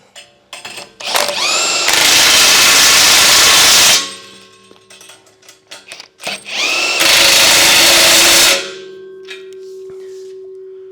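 A DeWalt 1/2-inch XR cordless impact wrench drives bolts in two loud, sustained hammering bursts of about two seconds each, with clanks and rattling between them and no talking.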